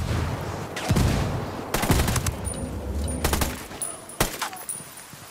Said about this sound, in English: I'm calling for indirect fire.